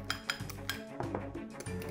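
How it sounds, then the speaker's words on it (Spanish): A fork or whisk clinks quickly against a bowl while an egg is beaten, a rapid, irregular run of close, light metallic taps with no voices. "en el otro vamos a poner un huevo que lo vamos a batir"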